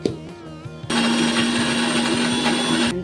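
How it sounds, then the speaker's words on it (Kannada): After a brief quiet moment, a mixer grinder grinding radish chutney with coconut powder whirs loudly and steadily for about two seconds, then switches off abruptly. "ಈಗ ಮಿಕ್ಸಿಗೆ ಹಾಕ್ಕೊಂಬಿಡೋಣ"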